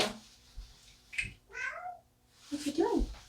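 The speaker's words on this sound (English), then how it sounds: "I've got a cat at the door" A cat meows at a door indoors, two or three distinct drawn-out calls, fairly close, with a person's voice speaking softly between them.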